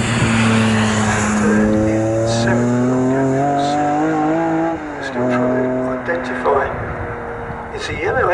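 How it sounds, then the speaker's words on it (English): Saloon race cars lapping the Snetterton circuit in a Thunder Saloons and BOSS Series race, loud engines droning and shifting pitch as several cars pass close together, with a commentator talking over them throughout. "Even closer between Piers Grange and Steve Waterman as they head through."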